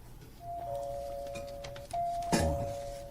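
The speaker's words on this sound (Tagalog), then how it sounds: "Tuplo ko na daw sa doorbell ko." A doorbell chimes in a sound-effect scene from a Bisaya radio drama, one steady electronic tone held twice with a short break, moderately loud over faint background rustle, followed by a brief clatter.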